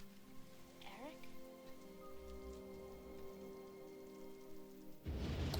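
Steady rain from the 1994 film The Crow falls as a constant wash under low tonal hums, with a brief rising whine near the start and a louder burst of noise at the very end.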